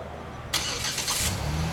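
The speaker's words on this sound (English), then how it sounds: "This truck is also equipped with a neat feature. It's called remote start. You push this twice." A 2007 Dodge Nitro R/T with a 4.0L engine is started by remote start: a short quiet lead-in, then a sudden starter crank that catches into a steady, close idle.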